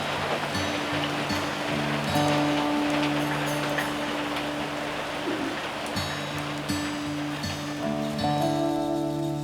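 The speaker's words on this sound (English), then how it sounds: "Here comes some rain." Light drizzle patters softly and steadily outdoors during a hunting trip, a gentle wash of fine drops under sustained tonal hums, with no talking.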